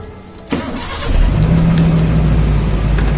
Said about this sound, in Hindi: वो गाड़ी को और उल्टी डायरेक्शन में रिवर्स करवा देते हैं।